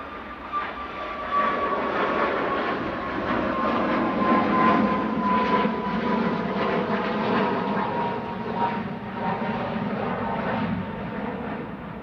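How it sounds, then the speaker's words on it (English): Ryanair Boeing 737 MAX 8200 jet departing Manchester Airport for Milan, a steady loud engine roar with a faint falling whine sustained throughout, no voices. "Ryanair off to Milan EIJB 737 MAX 8200,"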